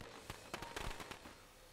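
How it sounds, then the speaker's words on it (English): Fireworks in the Dota 2 video game shoot up from the ground as a quiet, distant run of sharp crackling pops, several bursts spaced unevenly across a short moment, with no talking. "Yeah, it's fireworks."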